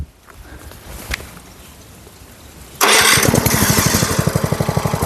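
A GT Shakti HTP portable power sprayer engine starts up out in a field: after a quiet stretch it fires abruptly and runs loud and close with a rapid, pulsing small-engine chug, with no talking.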